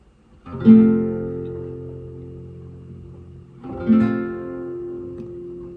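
Two strummed guitar barre chords, each ringing out and slowly fading, the second struck about three seconds after the first, with no talking.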